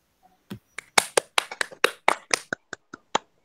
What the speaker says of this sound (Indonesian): Tepuk tangan dulu buat Bu Tri ya.